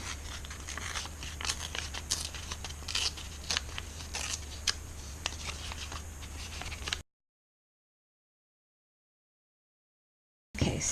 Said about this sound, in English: So I think I want to tear this even more.